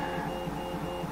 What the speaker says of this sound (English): I've got some printing going on with my A8